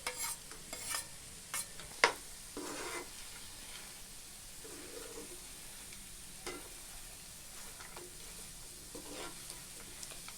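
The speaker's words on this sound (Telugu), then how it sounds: "మనం ముందుగా వేయించి పెట్టుకున్న డ్రై ఫ్రూట్స్ని అందులో వేసి కలుపుకోవాలి." A spoon stirs fried dry fruits into banana burfi in a pan. The scraping comes in soft, scattered strokes over a faint sizzle, with a sharp clink near the start and quiet pauses between the movements.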